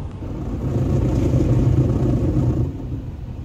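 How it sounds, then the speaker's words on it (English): An automatic car wash runs around a car, heard from inside the vehicle as a steady, close, low rumbling wash of machinery noise lasting a few seconds. "We're getting a car wash."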